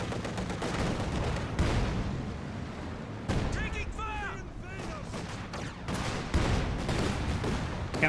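Battle in the video game Company of Heroes 2 with mortar and gunfire, repeated sharp gunshots and heavy thumping blasts in bursts, some whistling incoming rounds, steady and fairly loud.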